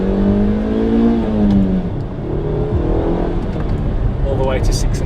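A Suzuki Swift Sport hot hatch with a manual gearbox, its engine revving up toward 6,500 rpm in a rising, strained drone that dips once as the revs shift, loud and close, with someone talking over it.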